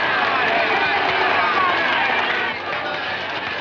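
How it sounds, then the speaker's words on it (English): A large circus crowd keeps up a dense, loud, unbroken roar of cheering and babble while it waits for the lion tamer. "What a crowd."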